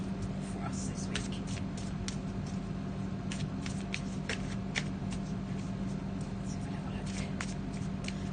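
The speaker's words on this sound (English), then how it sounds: "just going to be having a little shuffle of the Faulkner deck" A tarot deck being shuffled up close, with soft rapid riffling and slipping of cards continuing throughout. A quiet voice speaks over the shuffling.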